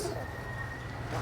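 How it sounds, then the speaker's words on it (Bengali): A male pigeon coos persistently in front of a female, a short, low, close murmur with no speech. "আমার এই কবুতরটা 24 ঘন্টা ডাকে।"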